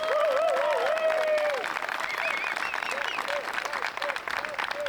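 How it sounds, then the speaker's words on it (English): A crowd at the 2024 Copenhagen Open disc golf event in Denmark applauds player Hjalte Jensen, with scattered outdoor clapping under a commentator's voice as birds chirp in the background. "Give a big round of applause,"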